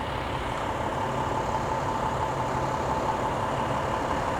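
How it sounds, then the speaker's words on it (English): A garbage collection truck's engine rumbles steadily as it pulls forward to clear a low-hanging wire, a continuous low drone at moderate level with no voices. "He's going to pull the vehicle out far enough to get past and underneath the low obstacle."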